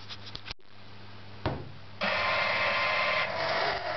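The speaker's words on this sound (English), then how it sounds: "So let's turn the pinball machine on and see if we have any problems or not." A pinball machine powers on: soft clicks, a pause, a relay clunk, then a broad steady electrical hum and buzz switching in abruptly and holding at fairly loud level.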